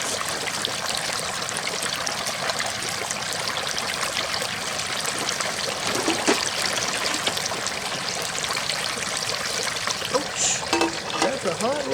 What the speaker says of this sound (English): We got a nice, steady boil going there.